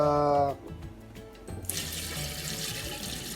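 Water drains off salted eggs being made at home, a steady splashing pour that starts near and full, then shifts into a brighter, hissing trickle and runoff, with no talk.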